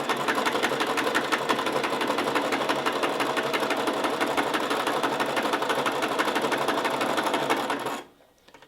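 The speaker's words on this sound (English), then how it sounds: "this sewing machine is foot powered" A foot-powered sewing machine stitches fabric in a fast, steady mechanical clatter of rapid needle strokes, close and continuous, stopping abruptly near the end.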